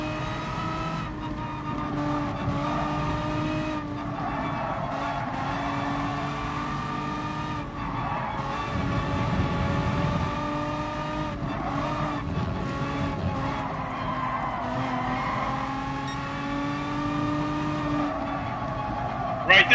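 A race car in GT Sport slides wide, its engine droning in steady harmonic tones with tyre scrub rising midway, loud and continuous throughout.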